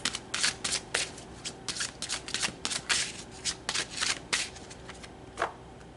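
Tarot cards being shuffled by hand in a steady run of dense, crisp riffling flutters over about six seconds, close and moderately loud, with no one speaking.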